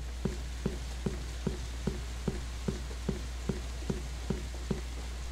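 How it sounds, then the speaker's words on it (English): Rain sound effect from the video game ChefRPG: a soft steady hiss with evenly spaced droplet ticks repeating in a regular loop over a constant low hum. "The rain's a pretty cool effect in this."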